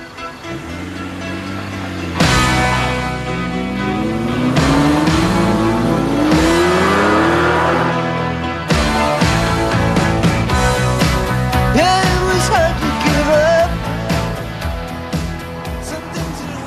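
An open car with no windscreen, airbag or seat belts driving hard in Switzerland, its engine revving loudly and climbing through gears with repeated rising pitch sweeps, close and dominant, with faint wind and some tyre noise.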